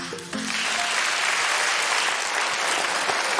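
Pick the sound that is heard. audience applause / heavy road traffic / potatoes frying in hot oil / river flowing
audience applause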